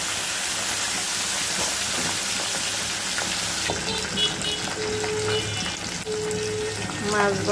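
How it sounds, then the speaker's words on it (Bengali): Tilapia frying in a pan of hot oil, a loud steady sizzle that thins a little partway through, with a few scraping and clinking utensil sounds near the end. "মাছ ভাজা শেষ"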